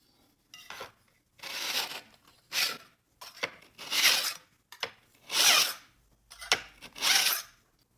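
A hand file rasps along the narrow edge of a steel card scraper in six or seven rhythmic strokes. Each stroke is a short, bright scrape, with brief gaps between them.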